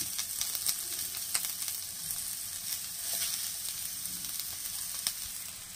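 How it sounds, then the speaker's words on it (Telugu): Sliced onions and green chilies frying in a hot pan, making a continuous crackling sizzle with occasional sharper pops and light stirring, close up with no speech. "పచ్చిమిర్చి అలాగే ఉల్లిపాయలు వేసేసుకుందాం."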